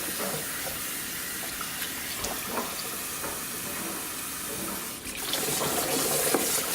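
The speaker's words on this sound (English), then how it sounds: "Someday I'll get a better faucet." A kitchen faucet runs steadily while something brined is rinsed under it, a continuous close hiss of water with small splashing changes and a brief dip near the end.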